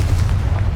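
A Confringo blasting spell in Hogwarts Legacy erupts as a loud, dense rumbling boom with heavy low-end, a short continuous burst.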